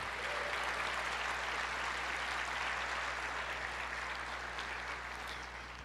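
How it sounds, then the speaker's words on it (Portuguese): A church congregation claps together at a sermon, a dense, steady wash of applause that carries evenly throughout before easing slightly at the end. "Você pode aplaudir o Senhor"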